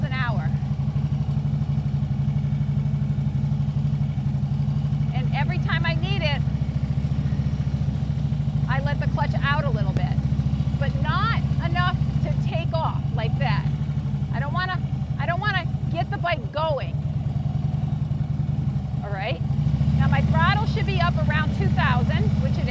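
Motorcycle engine creeping along at one to two miles an hour around 2,000 rpm while the clutch is slipped, a steady close low drone that runs throughout under a man's intermittent speech.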